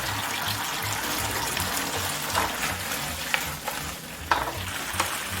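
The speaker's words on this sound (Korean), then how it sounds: "그리고 잘 튀겨놓은 탕수육을 예, 넣겠습니다." Fried sweet and sour pork is stirred into sauce in a pan, with a soft continuous sizzle and a few sharp clinks of a utensil against the pan, and no talking.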